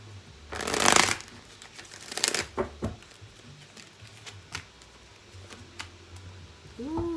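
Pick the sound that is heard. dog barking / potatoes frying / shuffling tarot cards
shuffling tarot cards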